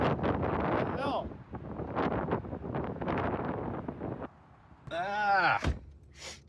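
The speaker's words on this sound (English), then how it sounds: "Boy, it's windy today." Strong wind during a wind storm while driving, roaring and buffeting against the microphone in gusts as someone talks over it, then easing briefly before he speaks again.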